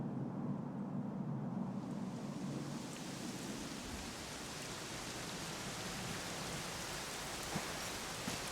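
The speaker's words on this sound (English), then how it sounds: "it was raining like this the last time I ever saw her" Steady rain in Dragon Quest XI, a dense, even hiss of falling water with a low rumbling undertone, constant throughout with no voices.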